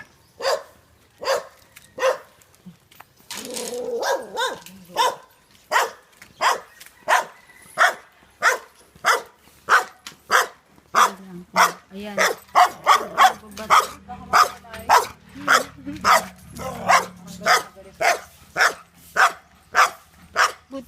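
A dog barks over and over in a steady, loud rhythm, with a few yips and whimpers between the barks and a faint voice now and then underneath.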